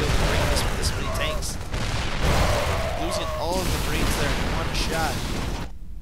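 Siege tanks firing in a StarCraft Terran-versus-Terran match, dense rapid booms and gunfire crackle running continuously under a commentator's steady voice, with battle sounds layered throughout.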